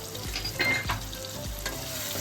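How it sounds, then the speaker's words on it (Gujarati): Spices with ground dried red chili sizzle in a hot pan while a spoon scrapes and stirs in a few quick strokes, close and continuous, without any talking. "બધું સરસ હલાવી લઈશું"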